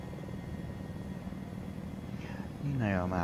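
A helicopter hovers in Arma 3, giving a steady engine and rotor drone, and a voice joins briefly near the end.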